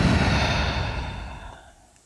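A deep, invigorating breath moves out in one long, close, breathy exhale that starts strong and steadily fades to quiet over about two seconds, with no voice.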